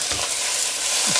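Five hundred grams of beef mince frying for chilli con carne, a steady loud sizzle with a couple of soft scraping stirs as the meat is mixed.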